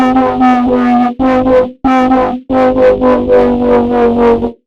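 A distorted synth bass patch built in Vital with a bright overtone plays a series of sustained notes and short stabs, gritty and harmonic-rich, alone with no talking.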